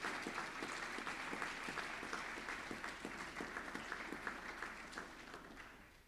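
Steady applause from the audience at a boys' high school prize-giving ceremony, many hands clapping evenly at moderate distance and tapering slightly toward the end.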